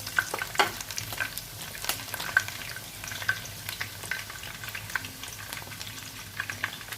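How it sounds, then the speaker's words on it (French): Cauliflower florets fry and brown in a pan for a tajine, a close, steady sizzle with faint crackles and occasional stirring taps throughout. "Je laisse bien dorer dessous."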